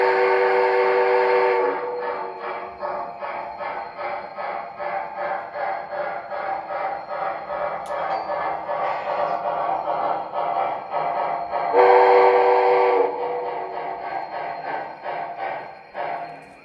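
An MTH Premier Erie Triplex model steam locomotive with ProtoSound 3 sound runs steadily and loudly, its rhythmic chuffing carrying through the whole run, with bursts of whistle near the start and again partway through.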